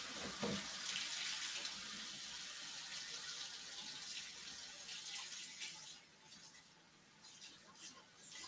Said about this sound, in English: I'm going to go add 2 cups of warm water to this mixture.